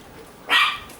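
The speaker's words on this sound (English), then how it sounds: "That's Casper, he's barking." A dog gives a single short bark indoors, one sharp bark of moderate loudness against a quiet room with no talking.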